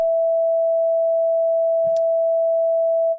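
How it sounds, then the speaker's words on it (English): A pure, steady sine tone from the oscillator of the Massive X software synthesizer holds loud and unchanging for about three seconds, broken only by a brief faint click partway through. "let's turn that to sine wave."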